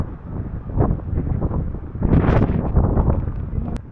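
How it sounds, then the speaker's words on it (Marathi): Strong gusting wind buffets the microphone on a monsoon trek at Rajgad Fort, a loud continuous roar that surges midway and holds steady with no speech. "जोरदार असा वारा सुटला होता, त्याच्यामुळे बोलणं शक्य झालं नाही त्या ठिकाणी"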